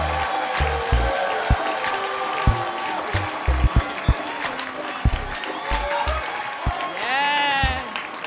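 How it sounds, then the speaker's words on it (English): A stand-up comedy audience claps and cheers as a comedian takes the stage, a lively spread of many hands with scattered whoops, while a voice talks over it near the end. "I'm convinced this applause is for the pants"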